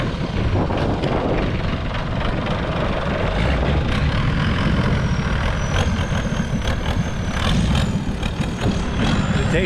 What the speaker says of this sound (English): The diesel engines they put on the boat here is somewhere else than how they do it.